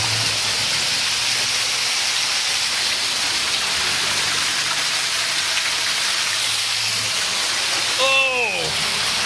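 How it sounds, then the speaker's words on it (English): Waterfall in a cave, a loud, steady rushing roar of falling water heard up close, with a short vocal sound near the end. "There's a real waterfall."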